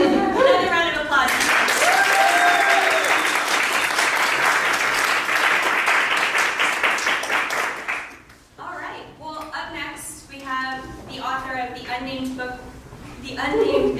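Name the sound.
audience applause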